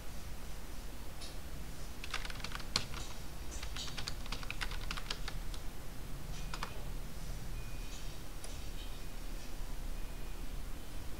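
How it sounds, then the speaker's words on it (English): Someone types a username and password on a computer keyboard, a run of faint, quick key clicks that come in clustered bursts and then thin out over a soft background hiss, with no voices. "Type your username and password."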